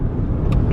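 Car driving on a road during a long trip, a loud close steady rumble of engine and road noise, with a couple of faint brief high ticks near the end.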